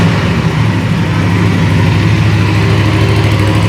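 An Aprilia RS 457 motorcycle engine fitted with an aftermarket air filter and a DB killer idles steadily, loud and close, with a constant low throbbing drone and no talking.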